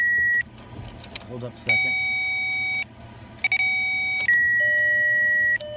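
A 2000 Volkswagen with a no-crank, no-start fault has its ignition key turned, setting off loud, steady electronic dashboard chimes in several sustained tones that stop and restart, with a brief spoken remark near the start.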